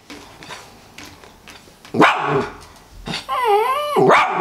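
A Schnoodle barks sharply a few times nearby during grooming, with short loud bursts and a drawn-out whining yelp between them.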